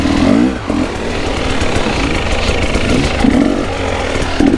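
A Suzuki DR 350 four-stroke 350 cc enduro motorcycle engine running close by, a steady loud idle-like rumble with a few brief blips of revving.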